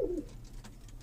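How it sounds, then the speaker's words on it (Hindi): A single soft, low coo from a spotted pigeon, brief and faint, with a quiet background around it. "छापदार कबूतर है"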